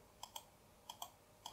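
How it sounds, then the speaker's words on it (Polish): A Tt eSPORTS Iris RGB gaming mouse's DPI button clicks several times in a quiet room, crisp, firm, light clicks in irregular pairs, close and isolated. "który działa już raczej twardo, z przyjemnym lekkim klikiem."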